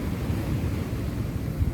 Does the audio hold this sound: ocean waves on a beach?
yes